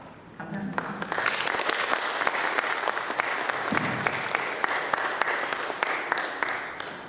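A church congregation applauds at a retirement and elder-pastor installation ceremony, steady sustained clapping from a large crowd filling the room, with faint voices beneath it.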